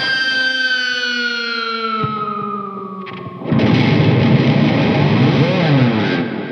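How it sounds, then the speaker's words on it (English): Electric guitar with heavy effects: a gliding, descending wail that slides downward, then erupts into a dense, distorted, shrieking roar that sustains loudly to the end. "And that's how to make your guitar scream."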